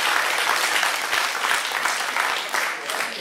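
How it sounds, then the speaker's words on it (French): Dense, steady applause from an audience at a prize-giving for primary-school classes at the St André les Alpes agricultural fair. Many hands clap continuously at an even level for the whole stretch. "on peut les applaudir"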